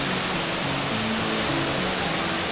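A small waterfall on a slippery forest trail, wet from rain, rushes as a steady, close, broadband roar of falling water that fills the short stretch without pause or voices.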